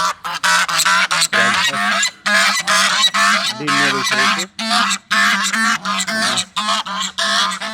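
Geese and ducks honk loudly and repeatedly at close range at a farm mini zoo in Abdali, Kuwait, a dense, raucous chorus of calls with only brief pauses.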